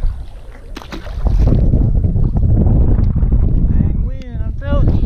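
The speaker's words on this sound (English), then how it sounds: "Dang wind, I'm telling you." Gusty wind buffeting the microphone outdoors on the water while bass fishing, a loud continuous low rumble that swells and drops, with a voice speaking briefly near the end.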